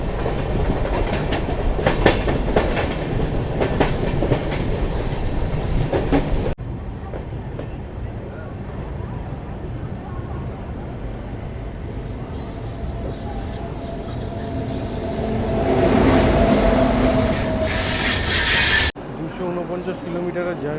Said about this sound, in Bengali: কিলোমিটারের জার্নি করে ট্রেন এখন এসে পৌঁছেছে তার যাত্রাপথের 6 নম্বর হল্ট টাটানগর জংশন।